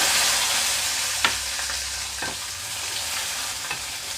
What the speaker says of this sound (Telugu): ముందుగా పండుమిరపకాయలు వేసి వేయించుకుంటున్నాను